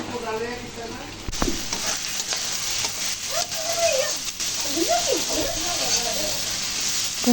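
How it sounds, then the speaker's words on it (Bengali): Small shrimp frying with onion in a pan, a steady close sizzle with scraping stirring strokes, under a voice talking. "চিংড়ি মাছগুলো ভুনা করতেছি"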